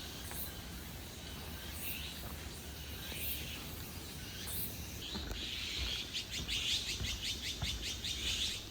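Several small wild birds chirp and tweet in quick bursts on a quiet forest trail in Gangnam, Seoul, with a denser trill of calls toward the end.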